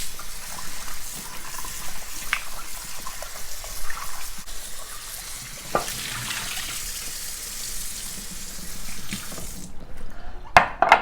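Tap water runs steadily into a sink while strawberries are rinsed with salt, a continuous close splashing gush lasting throughout, with a few clinks and knocks near the end.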